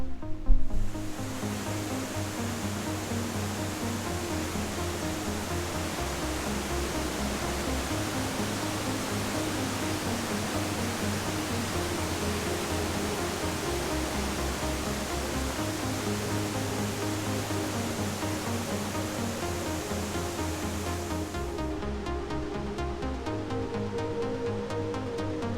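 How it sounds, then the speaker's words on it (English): A waterfall at Chutes Provincial Park in Ontario roars close by, a loud, constant broadband rush of falling water that holds steady for over twenty seconds before cutting off near the end. "It's gonna be loud, so I'm probably not gonna talk, but it's a waterfall."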